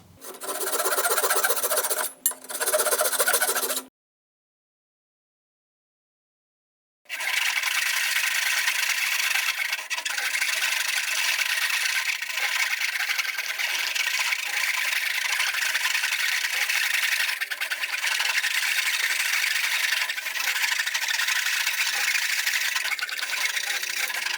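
A cheap Rue Tool pull saw with fine teeth cuts through wood in steady, close rasping strokes, a short burst, a pause of silence, then a long continuous run of even sawing with no talk.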